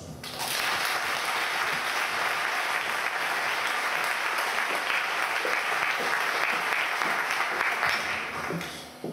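An audience at a PechaKucha Night in Ferrol claps steadily for about eight seconds, a dense, sustained round of applause that swells quickly and fades at the end.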